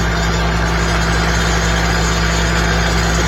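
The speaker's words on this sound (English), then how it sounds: "The tractor PTO pressure washer." A tractor-driven PTO pressure washer runs with a loud, steady low engine drone and pump hum, constant and close throughout with no talk.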